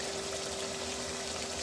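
Water poured into a pan of mashed tomato and mutton liver masala, a steady soft pouring hiss with a faint hum beneath, continuous and close.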